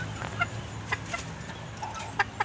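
Egg-laying hens in a backyard flock cluck in short, scattered bursts, several separate calls at moderate distance over a quiet background.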